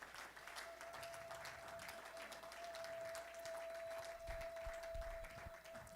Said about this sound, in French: Nous allons encore applaudir pour nos enfants, nos sœurs, nos frères qui viennent de chanter devant.